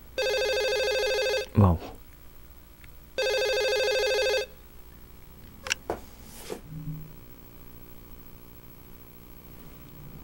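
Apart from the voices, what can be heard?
telephone ringing in the video game Twilight Syndrome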